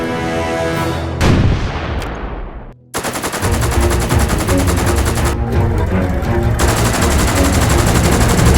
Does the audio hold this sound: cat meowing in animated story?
no